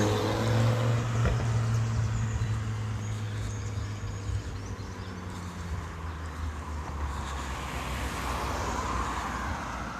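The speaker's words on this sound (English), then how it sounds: "Somebody's about to go racing in the car by the sounds of it." A car engine roars loudly and then eases into a lower, rumbling idle outdoors, with no one talking.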